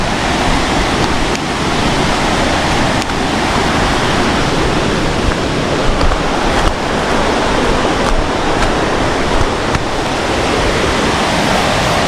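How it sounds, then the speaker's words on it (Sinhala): The Badulu Oya river, swollen and muddy brown after rain, rushes past in a loud, unbroken roar of turbulent water, close and constant. "මේ වගේම වතුර පාර හරි සැරයි"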